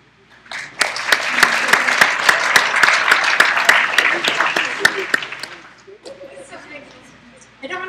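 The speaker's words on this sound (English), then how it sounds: "your hands are gonna get tired of clapping if we go through this list and clap every time" An audience applauds as Native nations are named at a session, a loud burst of crowd clapping with sharp individual claps on top that swells and then fades, followed by a voice speaking.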